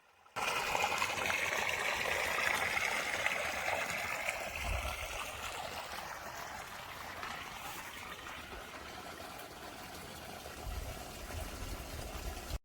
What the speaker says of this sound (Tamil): இந்த குழாயிலிருந்து தான் குட்டையில் தண்ணி அதிகமான வெளியேறும்